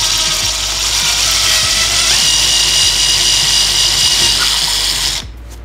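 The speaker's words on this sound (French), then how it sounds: "Donc ensuite on fait le trou à droite, on vérifie qu'on est bien sur le 1500 watts et on peut percer." A 1500-watt power drill boring a hole in a wall, with loud, steady whirring and grinding that runs close and continuous for about five seconds before cutting off.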